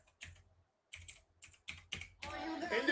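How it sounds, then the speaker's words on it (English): A very clicky computer keyboard typed in short bursts of close, crisp clacks separated by brief pauses, building into a denser flurry of keystrokes at the end. "That's just a keyboard. It's a very clicky keyboard."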